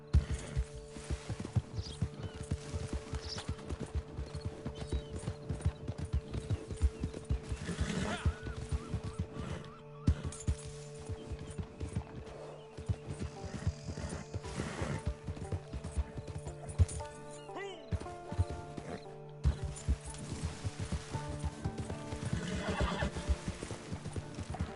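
Hooves pound in a steady gallop throughout as a horse runs in the video game Red Dead Redemption 2, with whinnies breaking through and brief dropouts in the game sound.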